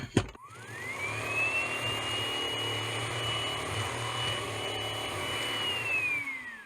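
A repaired Hoover ONE PWR cordless vacuum cleaner starts with a click and spins up to a steady, loud motor whine, holding a constant high tone for several seconds before beginning to wind down at the end.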